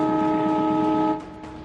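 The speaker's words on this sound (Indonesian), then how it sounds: "kereta tersebut membunyikan klakson dan memperlambat lajunya" Train horn sounding a long, steady, loud blast on an Indonesian railway near the Cisomang bridge, cutting off abruptly and leaving a quieter fading tail.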